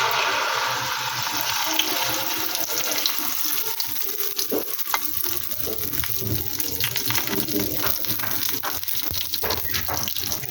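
Omelette mixture sizzling in hot ghee in a pan, a dense steady hiss and crackle throughout with occasional soft knocks, no voices.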